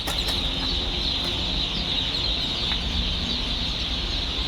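Pekin ducklings at a duck farm, a dense continuous chorus of high peeping calls with occasional louder cheeps, close and steady throughout.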